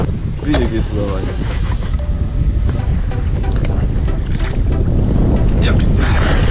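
Wind buffets the microphone in loud, rumbling gusts while carp fishing, with water sloshing and faint voices in the background.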